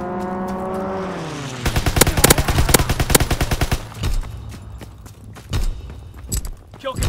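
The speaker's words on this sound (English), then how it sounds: "Strafing run inbound." Aircraft strafing run in Call of Duty WWII, a loud rapid burst of gunfire after an engine sweep passes, followed by scattered sharp shots and impacts, with no talk.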